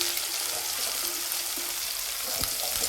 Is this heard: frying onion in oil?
yes